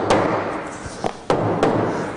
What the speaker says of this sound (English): we hammer it into place and it locates.